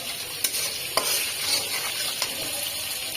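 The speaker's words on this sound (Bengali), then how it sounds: "মশলাটা ভেজে নিচ্ছি, সুন্দর করে মশলাটা কষা নিতে হয়" Spice masala frying and being stirred in a pan with a little added powder, a steady close sizzle broken by several sharp scraping stirs, no voices.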